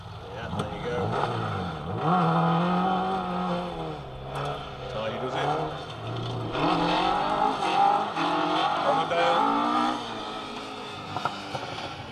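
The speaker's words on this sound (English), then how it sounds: "This looks like the Alfa Romeo Alfa Sud TI coming down the hillside." Alfa Romeo Alfa Sud TI rally car on a hillside stage of the Severn Valley Stages rally, its engine revving and changing pitch as it comes down, heard at a distance under talk.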